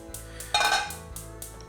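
A simple metal frying pan clanks down onto a stovetop set to medium heat with a short clatter, followed by faint lighter knocks in a quiet room.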